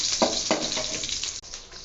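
Mustard seeds and long-cut green chillies fry in hot oil in a pan while cooking noodles, giving a steady close crackling sizzle with a few louder pops early on and no talking.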